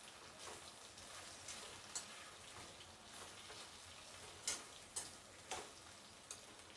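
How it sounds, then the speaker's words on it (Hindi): Okra (bhindi) frying in a pan, a faint steady sizzle broken by light ticking taps and a few sharper clicks of stirring. "भिंडी हमने डाल दी है, अब इसे अच्छे से फ्राई कर लेंगे।"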